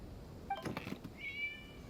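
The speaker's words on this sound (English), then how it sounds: "It was just a cat." Cats in the video game Genshin Impact give a couple of short, soft meows, a brief one and then a longer drawn-out mew, over quiet background.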